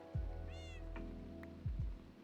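Cat meowing in a video game, a single clear, close meow rising and falling, set over a low steady ambient hum with soft thuds.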